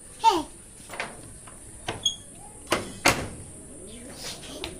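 A couple of sharp clanks and rattles as a metal gate to a pigeon house is handled and swung open, with faint voices and birds in the background.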